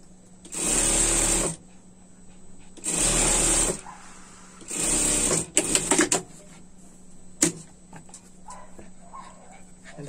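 A sewing machine stitches a straight seam on a floral winter dog outfit in three loud, steady runs of about a second each, separated by pauses, followed by scattered clicks and a dog's brief whimpering.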